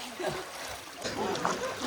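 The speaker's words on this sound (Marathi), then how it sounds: "इथे इकडे पाणी पडत असतं इथून, कसं दाखवलं गाईच्या तोंडातून" Water falling from a cow-mouth spout at the Sapteshwar Shiv temple in Sangmeshwar, a steady splashing trickle heard close by and fairly loud, with voices in the background.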